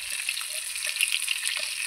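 Katla fish frying crisp in a pan, a steady soft hiss of sizzling oil with faint pops, close and fairly quiet, no voices.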